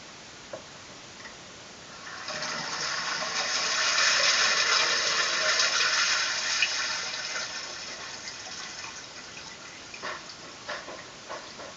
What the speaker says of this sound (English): I'm going to go flush a toilet really quick.